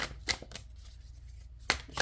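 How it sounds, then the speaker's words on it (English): Crisp riffling bursts of cards being shuffled, a couple of quick flutters, a pause, then another riffle close by. "the shuffling of the cards."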